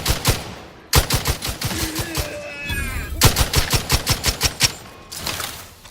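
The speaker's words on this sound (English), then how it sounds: "Lay down fire." Rapid automatic gunfire in The Outer Worlds 2 crackles in long sustained bursts with short gaps between them, loud and close, plus faint game sounds in between.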